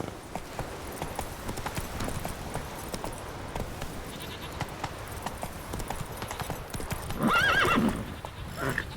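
Horse hooves clip-clop steadily at a gallop across open ground in The Witcher 3, with a short whinny near the end.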